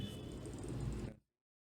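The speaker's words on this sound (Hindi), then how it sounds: "आप कूलिंग फैन की आवाज़ सुन सकते हैं।" A short wave diathermy machine's cooling fan whirs in a steady, fairly quiet hum, then cuts off abruptly, leaving silence.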